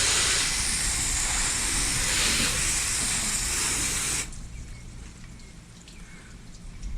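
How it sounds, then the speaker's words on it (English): A loud, steady hiss of water spraying onto a clay-barred car's paint for about four seconds, then it cuts off, leaving faint dripping and quiet. "I'm going to spray this down and see how it is after it's been clayed."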